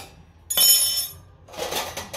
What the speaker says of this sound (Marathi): आता म्हणलं चला पहिलं भांडे आवरूया